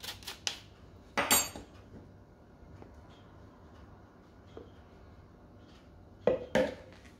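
Lumpy flour being pushed through a metal sieve for a pineapple boiled fruit cake, heard as a few sharp clinks and scrapes of utensil against sieve and bowl, separated by quiet gaps.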